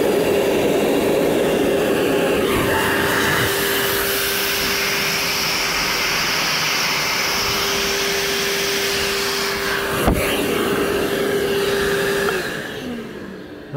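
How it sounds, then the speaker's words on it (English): A Bauer shop vacuum blowing air out through a hot tub's lines to winterize it, a loud steady whine and rush held for about twelve seconds before winding down, with a sharp clunk near the end. "This shop vac does have some power."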